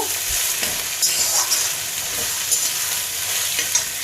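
Chopped onions sizzle and crackle loudly in a hot pan, a steady close-up frying hiss with occasional stirring scrapes, no voices.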